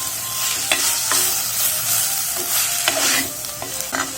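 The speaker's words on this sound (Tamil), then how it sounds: "வடிகட்டின பூவை இதில் போடுறோம். கூடவே தேங்காய் பூ, போட்டு நல்லா வதக்கிக்கிறோம்." Banana flower and grated coconut stir-fried in a pan, with a steady sizzle under repeated scraping strokes of a spoon, close and fairly loud over about four seconds.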